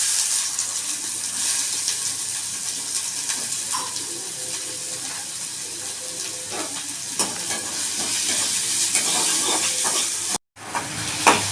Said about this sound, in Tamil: வெங்காயம் ஃபஸ்ட்டு வதக்கணும்.